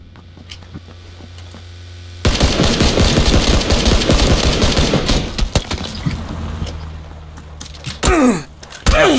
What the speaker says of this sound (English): Yep, still shooting at us.